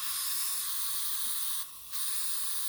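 A Fengda FD 186 airbrush sprays water in a steady, bright hiss that cuts out briefly for a moment, then resumes at the same strength.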